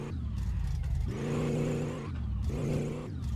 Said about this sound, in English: It's the exhaust revving real bad right there.